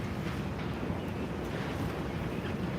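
Strong wind blowing outside a barn, a steady low rushing roar with gusty buffeting, continuous and fairly loud.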